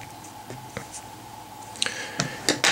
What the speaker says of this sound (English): I'm going to trim some of that foam away from the eye.